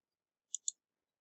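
Two quick, light mouse clicks in close succession, crisp and near, with silence before and after.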